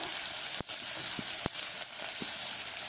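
Onion sizzling in hot ghee: a steady, close hiss of frying broken by a few sharp crackles and pops, with no talking.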